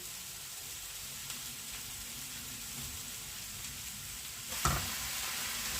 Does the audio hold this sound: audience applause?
no